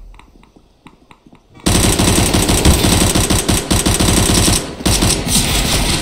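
In a CS:GO Wingman match, quiet clicks give way to a sudden loud burst, then sustained rapid automatic gunfire with a brief dip near the end.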